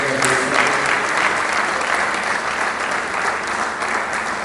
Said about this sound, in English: Please, a round of applause for the Executive Director.